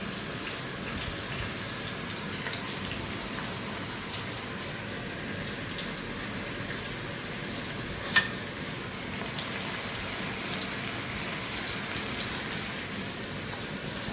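Chicken for butter chicken frying in a pan with a steady crackling sizzle throughout, close and even, with one brief sharp tap partway through.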